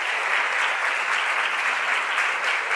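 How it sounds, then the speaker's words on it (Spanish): A live audience at a talk in Gandía applauds steadily, a dense, even wash of many hands clapping close by, with no voices over it. "Un aplauso."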